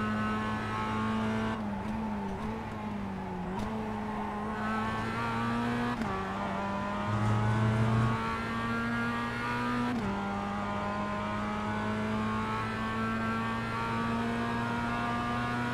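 Mazda race car engines from the Global Mazda Series in a sim racing game at Alton Park, droning continuously with pitch rising and dropping through gear changes, steady and close, with no talk.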